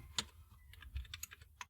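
Light, quiet computer keyboard typing, a short run of scattered clicks at an uneven pace, close by and alone with no speech.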